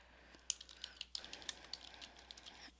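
Keys clatter in quick, uneven bursts as someone types content into a WordPad document on a computer keyboard, close and fairly soft with brief pauses between runs of keystrokes.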